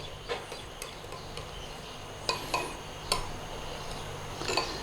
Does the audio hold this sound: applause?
no